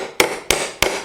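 Hammer tapping a nail back through a piece of wood while building a manger: three sharp, evenly spaced knocks, close and loud, with no talking.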